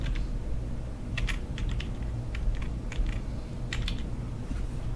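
Fingers tap a computer keyboard while a date of birth is entered into physiotherapy clinic software, giving scattered quick clicks in small clusters over a steady low background hum.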